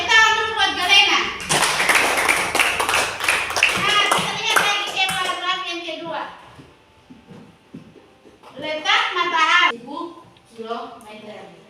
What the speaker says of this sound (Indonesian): tepuk tangan dulu buat Galena.